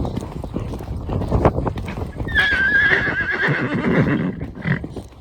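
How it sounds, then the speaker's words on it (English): A ridden horse gives a loud, wavering neigh midway while its hooves clip-clop steadily underneath, close and clear on a ride out toward a quarry. "You'll have to excuse that he does neigh."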